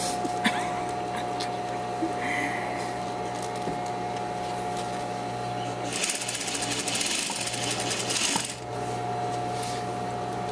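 A sewing machine stitching the seam of an apron, a fast, steady mechanical whir and clatter close by, growing busier and louder in a burst midway before settling back to a quieter hum.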